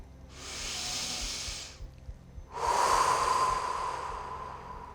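Two long, deep breaths during a yoga session: a steady hissing inhale followed after a short pause by a fuller, louder exhale, both close and breathy with no talking.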